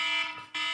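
A cell phone's alarm ringtone sounds in steady, bright electronic pulses with a brief dip in the middle, moderately loud and heard alone.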